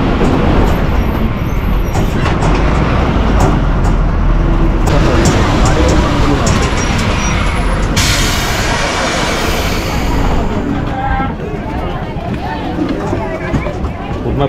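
An ST state transport bus rides from Panvel toward a Konkan village on the Borivali–Borthal route, its engine and road noise forming a loud, continuous rumble. Passengers chatter in a background babble, and the noise shifts in texture partway through the ride.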